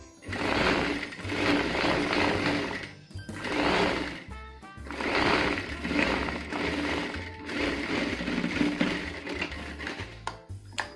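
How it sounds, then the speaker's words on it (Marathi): Sewing machine stitching a kurti seam, loud close whirring runs of stitching with brief pauses between bursts, mechanical and steady, no talk. "डबल टिप देऊन शिलाई पक्की करून घेणे."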